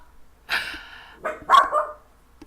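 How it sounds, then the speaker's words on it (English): A Jack Russell Terrier Beagle mix barks indoors at another dog outside, giving one sharp bark followed by a pair of quick, loud barks, with quiet breathing between them. "oh, y'all hear my dog?"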